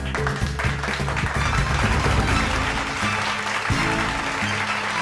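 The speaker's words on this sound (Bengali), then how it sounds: "একটা জোরে হাততালি সর্বাণী দাস এবং কোয়েল মল্লিকের জন্য" Audience applause at a film award show ceremony, a continuous wash of clapping from the hall, with music playing underneath.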